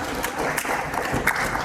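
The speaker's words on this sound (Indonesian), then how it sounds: "Maka aplaus tepuk tangan untuk Bapak kita" Audience clapping for Bapak Ali Sofyan at a primary school graduation ceremony, a short burst of dense applause mixed with crowd murmur filling the hall.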